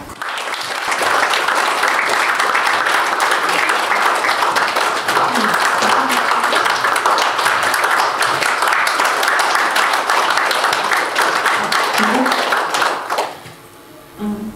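A standing audience gives warm, sustained applause at a corporate lecture event as a Buddhist master enters, dense clapping holding steady for about thirteen seconds before cutting off, with a brief voice after.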